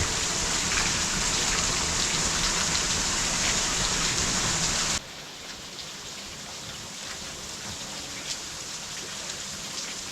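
Steady rain falls outdoors, a dense broadband hiss of drops spattering on surfaces. It runs loud for about five seconds, then drops abruptly to a softer, continuous patter for the rest.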